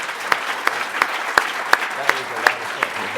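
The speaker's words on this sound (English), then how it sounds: "So I think we should give them another round of applause here." Audience at a live event on the open internet gives a round of applause: steady, full crowd clapping with several sharper individual claps standing out at a regular pace.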